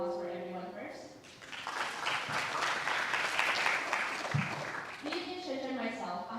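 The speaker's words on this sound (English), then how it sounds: "Please give a round of applause for everyone first." Dense audience applause fills the middle of a finale event for an innovation competition, swelling quickly and holding steady before fading, with a speaker's amplified voice heard before and after the clapping.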